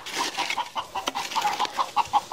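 A chicken clucks in a series of short, rhythmic calls, close and fairly loud, repeating about every quarter second outdoors in a farm setting.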